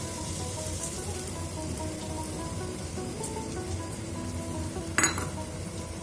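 Beaten egg hitting okra already frying in a pan, giving a steady dense sizzle close by with a sharp clatter of a utensil against the pan near the end, no talk.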